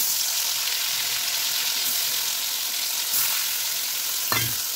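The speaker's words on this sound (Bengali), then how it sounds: "উচ্ছেটা ভাজা হয়ে যাচ্ছে" Bitter gourd (uchhe) fries in hot oil with a dense, steady sizzle close by, a couple of light stirring scrapes and a soft knock near the end.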